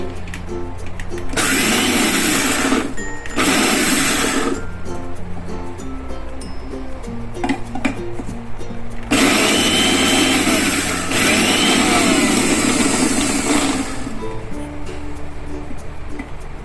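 A kitchen mixer grinder pulses gathiya, a fried gram-flour snack, into powder for Jamnagar dry kachori: two short loud whirring bursts, a pause, then a longer sustained grinding run, all close up.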